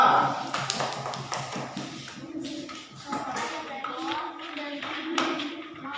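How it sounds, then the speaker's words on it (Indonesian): Classroom of children claps for a group after its presentation, uneven scattered hand claps and taps mixed with kids' chatter and shuffling, moderately close and never forming a steady applause. "tepuk tangan untuk kelompok 2"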